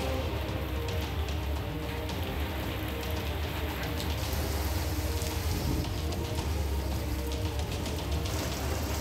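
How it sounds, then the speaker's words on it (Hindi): Heavy monsoon rain pours down steadily in Aravalli, Gujarat, a dense, continuous hiss of downpour on surfaces with no voices, loud and unbroken throughout. "अरवली में भी मूसलाधार बारिश का कहर लोगों को झेलना पड़ा है।"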